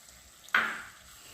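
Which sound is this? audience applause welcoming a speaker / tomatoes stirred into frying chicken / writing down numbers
tomatoes stirred into frying chicken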